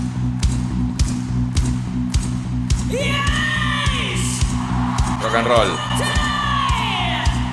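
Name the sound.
concert crowd applauding and cheering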